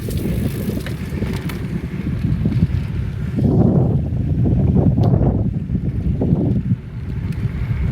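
A bicycle ridden outdoors on an early morning ride, with steady wind rush and rolling tyre noise over the microphone, swelling louder in the middle, continuous and close.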